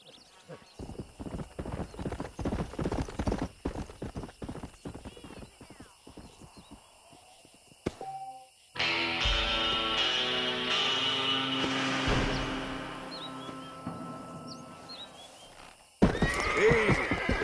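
Stallion from Red Dead Redemption, with clip-clop hooves in quick irregular steps, then a loud, drawn-out neigh and whinny against a steady game background, finishing with a brief sharp snort or whinny.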